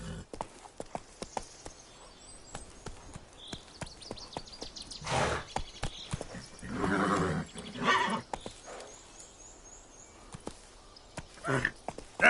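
Roach the horse in The Witcher 3 whinnies loudly in the middle of a run of steady clip-clopping hooves, walking close by. A brief vocal sound comes near the end.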